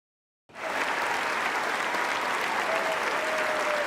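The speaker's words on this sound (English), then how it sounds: "The first pope ever to set foot in the Capitol was greeted with rapturous applause" Rapturous applause greets the pope at the Capitol, a dense, loud wall of clapping from a large crowd that starts abruptly and holds steady throughout.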